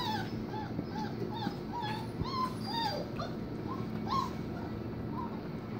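Several puppies whimper and yip in high, thin cries, scattered irregularly and fairly close, over a steady low background hum.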